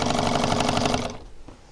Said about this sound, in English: So hold those pieces together and start sewing.